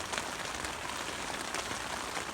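Rain drums on a tarp rigged over a canvas tent at a stone-bank wild camp, a close, constant hiss of many fine drops with no one speaking.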